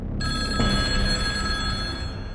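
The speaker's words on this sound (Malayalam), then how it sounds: "അവരെ തേടി ഒരു ഫോൺ കോൾ എത്തി" A telephone bell rings with a steady, shrill electronic trill, close and continuous over a low background hum.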